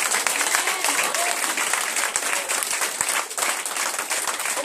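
A church congregation at a Friday worship service applauds and cheers for Jesus, with dense, continuous clapping from a large crowd and scattered shouts, loud and sustained throughout.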